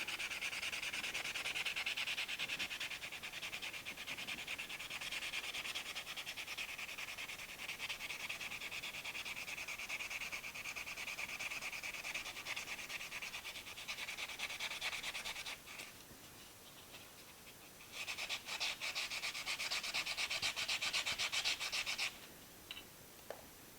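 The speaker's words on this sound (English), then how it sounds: "Sand it a little bit." A coin ring being sanded by hand, heard as continuous close, soft rasping and rubbing strokes that sway in intensity, with a short quieter stretch before the scratching picks up again.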